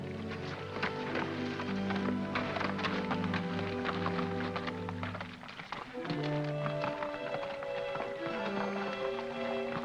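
Rhythmic hoof clip-clops from a horse moving steadily in a 1951 Western film, with tonal music playing loudly over it throughout.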